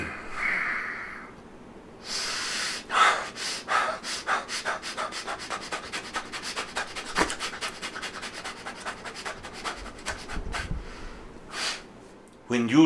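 Quick rapid breathing is demonstrated as a higher-energy breathing technique: a long run of fast, rhythmic, sharp nasal breaths and snorts, close and fairly loud, following a few slower breaths at the start.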